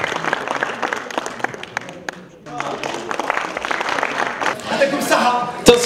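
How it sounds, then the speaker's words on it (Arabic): Audience applause fills a Podcast Arabia 2017 awards ceremony hall, a steady wash of clapping with crowd noise and voices mixed in, swelling near the end. "تصفيق الأمير وفرقة أورلين."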